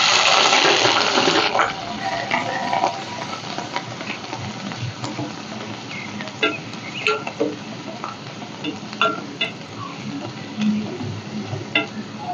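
Onions hit a hot pan of fried green chillies for a Telugu fish curry. A loud sizzling burst opens, then it settles into scraping stirs and quieter crackling.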